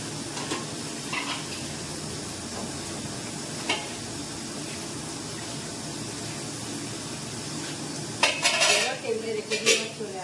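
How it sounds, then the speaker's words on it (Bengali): Plates and dishes being washed in a home kitchen, with soft clinks and scrapes through a steady running-water hiss and a burst of louder clattering near the end. "থালাগুলো ধুয়ে নিয়ে রেডি করবো"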